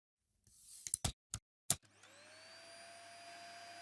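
A Dyson small ball upright vacuum cleaner switches on after a few sharp clicks and handling knocks, then its motor spins up into a steady, loud whine with a high tonal hum that holds to the end, close and alone.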